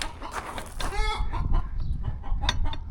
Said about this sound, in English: That chicken's real pissed.